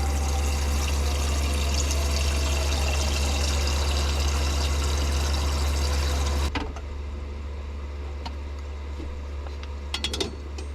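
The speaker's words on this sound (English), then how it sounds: "Just put a bit of water in this" Water is poured into a pan on a camping stove in a motorhome, a steady loud splashing stream for several seconds that cuts off abruptly, followed by quieter trickles and small clinks.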